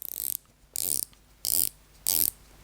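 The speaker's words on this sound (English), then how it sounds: "The bezel insert is ceramic, and the bezel itself is 120 click unidirectional." A ceramic-insert, 120-click unidirectional watch bezel being turned: four separate bursts of crisp, rapid ratcheting clicks, close and clear, with short pauses between them and no talking.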